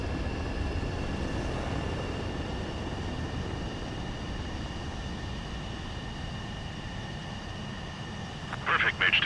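A fighter jet in the Ace Combat 7 video game makes a landing: a loud, steady engine roar with a sustained whine throughout, ending in a brief burst of harsher noise.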